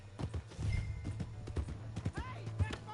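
Hooves of a ridden horse clip-clop in quick rhythmic beats within a video game, mixed with a brief whinny-like sound and voices talking over the hoofbeats.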